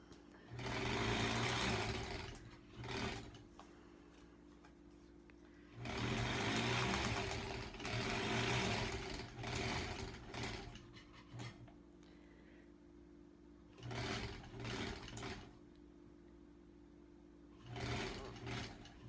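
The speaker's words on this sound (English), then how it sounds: "Get a little backwards stitch in there." A sewing machine stitches a quilt block in short repeated runs, including a backstitch, its fast whirring needle buzzing close and loud then pausing between bursts, with no talking.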